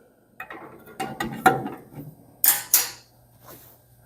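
A few sharp mechanical clicks and ratcheting bursts come from tightening fasteners while assembling a Cantek D405ANC sliding table saw. The clicks sound close and are separated by short quiet gaps.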